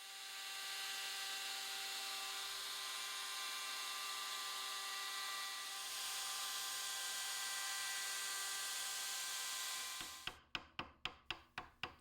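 A router fitted with a V-bit cuts a bead along the inside edge of a frame for a flame maple and cherry display cabinet, making a steady, loud whine for about ten seconds. It then stops, followed by a few sharp, evenly spaced taps.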